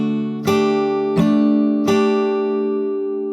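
An acoustic guitar plays a strumming pattern with three bright, full strummed chords spaced evenly apart, each left ringing and slowly decaying. No voice is heard.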